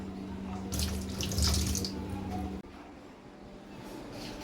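A kitchen tap runs hard into a sink while fish are rinsed, the water rushing and splashing close by, then abruptly dropping to a quieter trickle and ambient hiss partway through.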